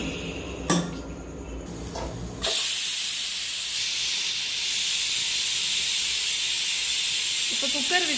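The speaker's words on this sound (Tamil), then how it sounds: "இப்போ குக்கர் விசில் வந்துருச்சு." A pressure cooker cooking vegetable rice on a home stove blows its whistle, a loud sustained hissing rush of steam that starts suddenly and continues steadily, after a few brief clinks of utensils.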